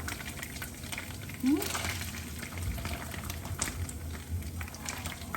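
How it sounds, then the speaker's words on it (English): Soft sizzling of onions and garlic frying in a pan, steady and close, with a voice speaking over it and a few light clinks. "the onions and the garlic have been frying for about 5 minutes"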